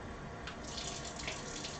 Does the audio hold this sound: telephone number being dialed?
no